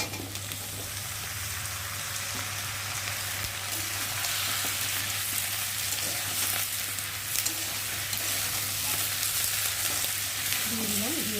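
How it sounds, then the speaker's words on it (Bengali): Cut potatoes added to onions frying in a pan, a continuous loud oily sizzle with light stirring, steady and close throughout. "আর এখন কেটে রাখা আলুগুলো আমি এখন এর মধ্যে দেবো।"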